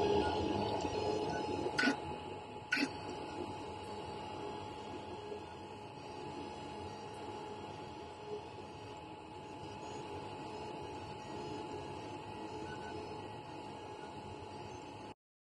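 An FLSUN Q5 3D printer prints a sample onto a FYSETC magnetic PEI sheet, giving a steady whirring motor drone with a couple of sharp clicks near the start; it runs close and alone, with no talk.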